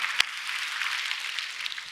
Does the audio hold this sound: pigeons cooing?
no